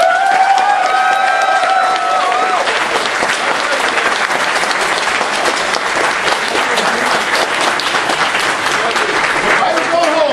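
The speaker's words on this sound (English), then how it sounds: "Let's give a hand, everybody." Loud, sustained applause and cheering from a charity auction audience at an anime convention, filling the room for a performer named Tyler, with voices calling out over dense clapping.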